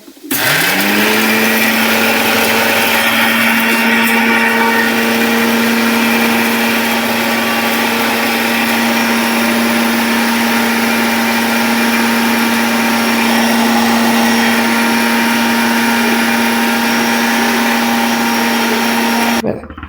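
A kitchen mixer grinder whirs loud and steady, blending green chillies with salt into masala. The motor starts up, holds one high drone for about twenty seconds, then cuts off, with no talking.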